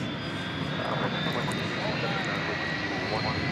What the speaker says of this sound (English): I hear one of our UPS planes revving up.